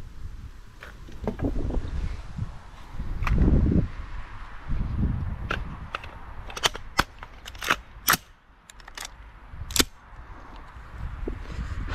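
A rifle fired outdoors from near a boat on the water, a series of sharp, separate cracks spaced irregularly over low background rumble, with no voices.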